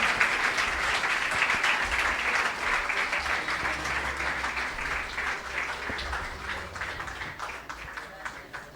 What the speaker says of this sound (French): battez les mains, applaudissez le Seigneur